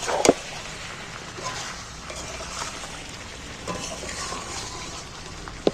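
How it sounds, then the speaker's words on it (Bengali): Salted chicken pieces being stirred in a pan, with soft scraping and faint sizzling, a couple of sharper clinks of the utensil, moderately quiet and steady throughout. "এইবার নুনটা দিয়ে নাড়াচাড়া করে নিচ্ছি"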